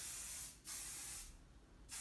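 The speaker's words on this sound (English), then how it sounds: "I use the Aquage finishing spray because it has a good hold to it." Aquage finishing hairspray hisses from an aerosol can in two long bursts with a short gap between them, close and loud, followed by the start of a third burst; no one speaks.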